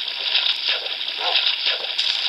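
Animals splashing in water in Minecraft: repeated splashing and sloshing, busy and hissy, in quick irregular bursts with no break.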